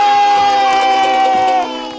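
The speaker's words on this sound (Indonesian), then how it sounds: "Tepuk tangan bilang" A group of children lets out a loud, sustained cheer of "yeay" on one held pitch that fades at the end, with no separate clapping standing out.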